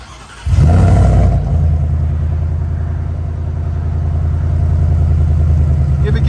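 A supercharged 5.0L V8 Ford F-150 with headers and a Borla ATAK exhaust bursts into a loud, deep rev, then settles into a heavy, rumbling idle that stays close and steady, with a voice briefly audible.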